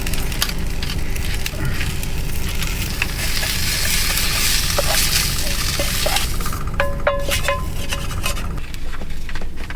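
Egg whites and three strips of turkey bacon fry steadily in a pan, a loud, continuous close sizzle with a few light clinks of a utensil against the pan near the end.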